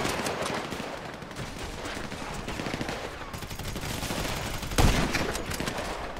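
Sustained video game gunfire in Grand Theft Auto 5 during a sniper shootout with the Ballas, a dense crackling fusillade of rapid shots with one heavier report near the end, and faint talk underneath.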